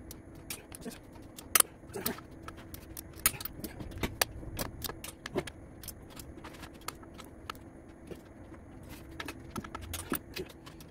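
A torque wrench gives sharp metallic clicks and ratchet ticks while torquing the cylinder head of a Nissan D21 Hardbody, with irregular bursts of close, crisp clicks and rattles and no talking.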